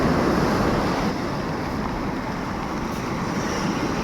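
During a typhoon, rough sea waves and flooded, muddy river water make a loud, continuous broadband roar, like heavy surf mixed with wind buffeting, steady with no clear breaks.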